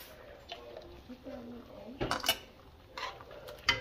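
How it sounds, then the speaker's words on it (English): Jambalaya ingredients, seasoned with Creole seasoning, oregano and browning, stirred in a pot: a spoon scrapes and clinks against the metal in short bursts, close and fairly quiet, with a louder knock at the end. "Give it a good stir, mix it all together"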